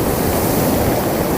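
Ocean surf rolls onto a white sand beach on the south coast of Taliabu Island, a steady, loud wash of breaking waves with no pause, close by and alone.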